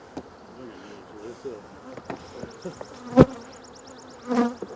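Honeybees from a colony being split into new hives: a steady, close buzzing swarm with sharper passes as individual bees fly near, and short bursts of louder wingbeats.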